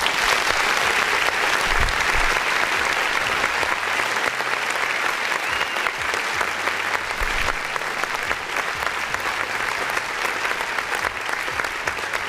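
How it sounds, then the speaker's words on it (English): Canned applause sound effect triggered from a button during a live music-submission stream, steady clapping at moderate level with low thumps and faint talk underneath. "Let's hit the button and go clap."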